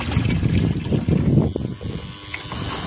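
Water gushes from a motor pump into a container on a farm, a strong splashing pour for the first half that then thins to a lighter trickle, close to the microphone with no talking.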